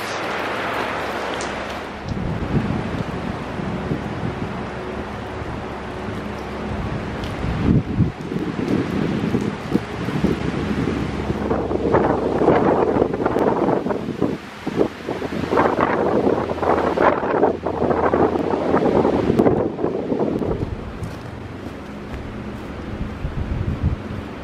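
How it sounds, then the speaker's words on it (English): Strong wind gusts roar and buffet the microphone on a hiking trail by rock outcrops on the Bastion Cascades circuit, a loud, continuous rushing that swells and dips for the whole stretch. "I'm only just starting to realise how windy it is today"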